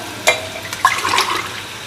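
Water is poured into a cooking pot for Sindhi beef pulao, a brief close splashing gush that starts, pauses, then pours again briefly.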